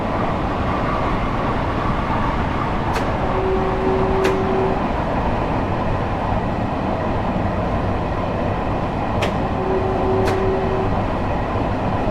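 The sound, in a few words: passing train on the Harlem Line in Train Sim World video game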